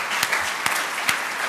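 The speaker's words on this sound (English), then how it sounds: "with a thunderous round of applause" Audience applause welcoming a speaker to a lecture on Krishna as a management guru, a steady dense clapping from a hall crowd throughout the brief moment.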